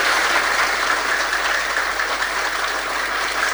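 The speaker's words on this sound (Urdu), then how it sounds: "مارو تالیاں ہیں۔" Steady, dense applause from the audience at a mehfil religious gathering, a loud sustained wash of clapping with no pauses for the full stretch.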